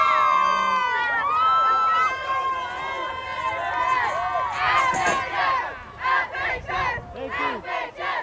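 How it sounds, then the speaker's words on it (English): Crowd at a high school football game cheering and shouting together, loud and sustained, with bursts of rhythmic yelling toward the end. "let's give a cheer here for the second half"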